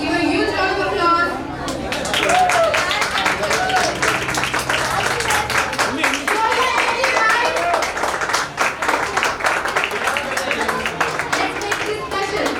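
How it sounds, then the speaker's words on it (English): A school audience at a robotics expo claps loudly and continuously for a visiting guest, dense sharp hand claps layered over lively crowd chatter and a speaker's voice. "Everyone, please give a huge round of applause"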